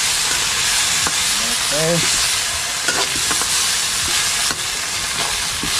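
Sardines with papaya fry in a pan, a constant close sizzling hiss broken by spatula scrapes and taps; a brief spoken word comes over the frying.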